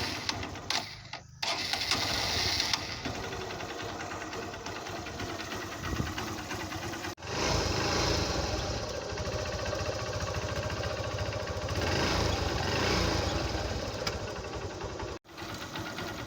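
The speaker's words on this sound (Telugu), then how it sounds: "బండి స్టార్ట్ చేసి చూద్దాము" A motorcycle with a brake light fault and a freshly cleaned spark plug starts and runs steadily, a continuous engine drone with a couple of brief cuts, loud and close, with no talking.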